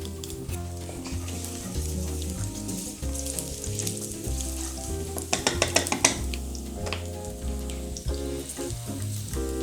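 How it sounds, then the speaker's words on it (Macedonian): Garlic fries in oil in a pan while a moussaka is being prepared, with a continuous crackling sizzle and a few sharp pops, set against steady background music. "Ќе го пропржиме во маслото."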